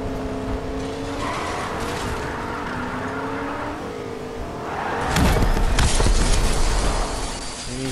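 A car drifting in the Fortnite video game, with a steady engine drone and tonal tire squeal that swells louder and grittier near the end, heard alone without talk.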